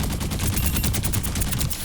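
Rapid automatic gunfire from Sierra's weapon in the shooter game Overwatch, a fast even stream of sharp shots at normal fire rate, loud and close with no talking.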